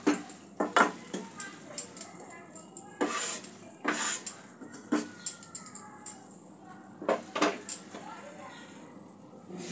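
Cooked katla fish jhuri with winter vegetables is scraped from the pan into a serving dish, with repeated close metal spoon clinks and scrapes at an uneven rhythm.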